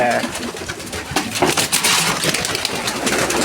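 Pigeons and a young squab coo close by, soft throaty calls repeating over rustling and shuffling, fairly loud throughout.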